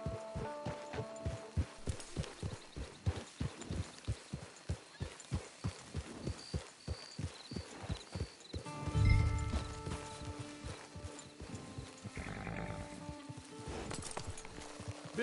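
Horse hooves clip-clop in a steady walking rhythm in Red Dead Online, then a brief snort and rustle as the pace stops, with game-style ambience underneath.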